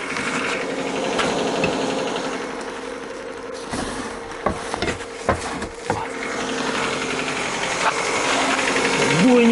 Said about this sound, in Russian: Да, машина, конечно, не очень работает.